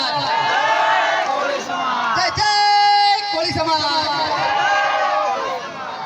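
A crowd at a Koli community mass wedding in Mahuva chants a slogan in unison, loud, dense voices rising together and holding for several seconds.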